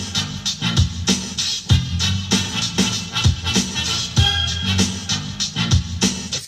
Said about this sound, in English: it's like a really hard hip-hop track